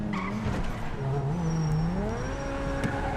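A Grotti Carbonizzare sports car in GTA V revs and accelerates, its engine and exhaust note rising and falling with brief tire squeal, loud and close throughout.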